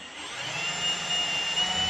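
A steady, high-pitched motor whine of a power drill running continuously at close range, drilling for custom motor mounts on a 1971 Ford F100.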